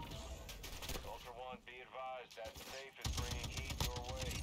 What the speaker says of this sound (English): I can use the turret. I can still use that.